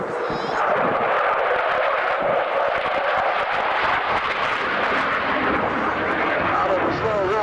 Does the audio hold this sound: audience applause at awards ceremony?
no